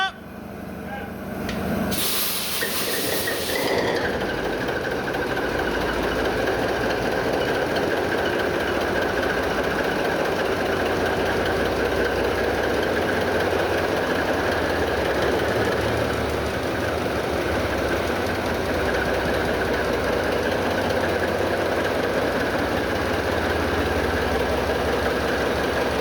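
A ship's diesel engine starts with a short hissing burst, then settles into a steady, loud idling rumble with a constant hum, running on unchanged for the rest of the stretch.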